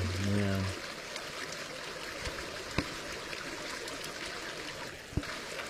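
Water flowing in Anderson Creek during salmon spawning makes a soft, steady outdoor rush, faint and continuous, with a brief low tone at the start and a couple of sharp clicks.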